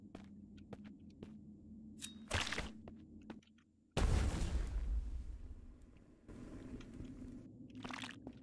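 A grenade going off in the survival video game Mist Survival: a sudden deep boom with a roaring wash of debris that fades over about two seconds, set against a steady in-game hum, alone with no voices.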